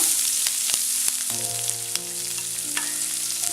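Ginger, green chili, onion and curry leaves sautéing in hot oil for semolina upma, a steady close sizzle with scattered sharp spatters and a few scraping stirs throughout, no talking.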